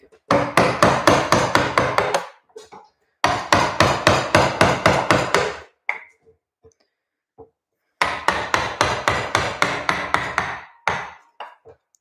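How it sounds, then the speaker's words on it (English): A small carver's mallet of walnut with a brass end strikes a carving tool during woodcarving of domed shapes. Three bursts of rapid, evenly spaced taps ring out close and loud, separated by short pauses with a few stray knocks. "This is walnut and that is brass, I believe, at the end. So it's a little carver's mallet."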